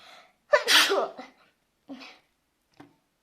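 A sharp sneeze bursts out after a brief breathy sound, followed by a couple of smaller trailing exhalations; close and fairly loud.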